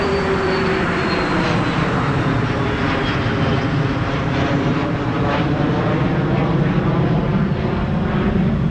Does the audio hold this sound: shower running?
no